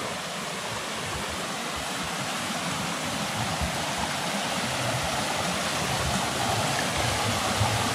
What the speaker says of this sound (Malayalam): അപ്പൊ ഇത് കൂടെ ഒരു അരുവി ഇങ്ങനെ ഒഴുകുന്നുണ്ട്